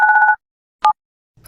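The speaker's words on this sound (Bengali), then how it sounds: "এই কল আসছে" A phone rings for an incoming call in the Bangladeshi open-world video game Project Bangla, with a loud electronic pulsed tone, a short second burst after a pause, then the start of another sound.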